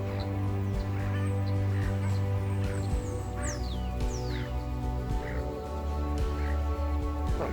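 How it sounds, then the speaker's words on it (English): Large ducks on a lake at Lake Bolac, Victoria, give honking calls at a distance, scattered through a steady low rumble with other bird calls in the background. "A couple of big honkers over there."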